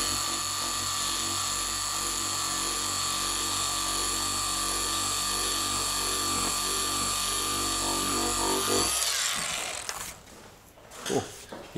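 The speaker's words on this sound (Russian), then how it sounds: "2000-й ковакс на эксцентрике." Eccentric orbital sander running with Kovax 2000-grit abrasive, a loud steady whine with a constant droning hum that cuts off near the end, followed by brief handling noises.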